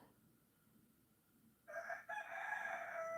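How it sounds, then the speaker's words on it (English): A rooster crows at 1 a.m. on a rainy night in New Zealand, breaking in loudly after a stretch of faint background hiss and holding a long, strained crow to the end, with no talking. "Oh my god, why are the roosters starting"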